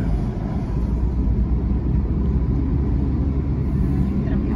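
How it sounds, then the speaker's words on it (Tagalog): Heavy trucks roll past on a road in rural Japan lined with cherry blossoms, a steady loud rumble of engines and tyres filling the whole stretch with no gaps. "dami naman truck"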